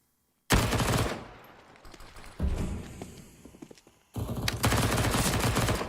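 Rapid AK rifle gunfire in a Counter-Strike match between NAVI and Vitality, loud bursts of automatic shots that break off, tail away into quieter echoing clatter, then resume in a dense, sustained volley.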